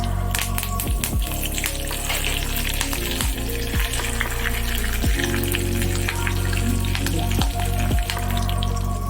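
Cumin, dry red chillies and curry leaves tempering in hot oil for a sesame and raw mango chutney, a loud close continuous sizzle and crackle with scattered pops throughout.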